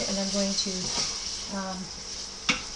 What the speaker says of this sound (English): So I'm going to stir that around,